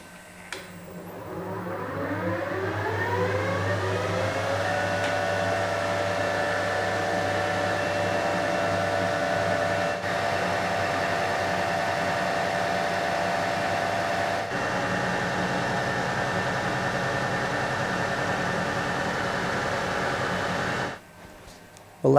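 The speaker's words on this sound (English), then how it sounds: "I'm just trying to machine the end of this block of metal here" A Harrison universal milling machine cutting the end of a metal block on slow table feed, a loud steady motor whine that spins up, holds a sustained tonal drone for about twenty seconds, then stops abruptly.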